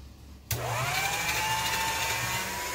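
Pasta machine switching on at setting 3 and rolling folded polymer clay, a steady close motorized whir with a faint rising tone that starts abruptly and continues unbroken.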